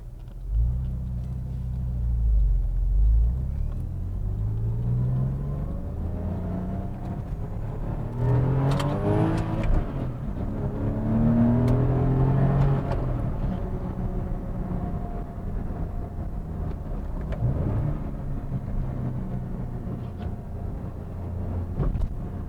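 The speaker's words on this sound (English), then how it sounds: "Okay, gave it a little something there. Did a little heel toe and a little downshift action there." A 2001 Porsche 911 Carrera 4 (996) engine rumbles steadily from inside the car, with a few quick rising and falling rev blips as a heel-toe downshift is made, a continuous low drone throughout with no talking.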